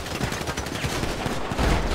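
Gunfire in GTA roleplay, a rapid, dense burst of shots rattling continuously for two seconds, close and loud with no talking over it.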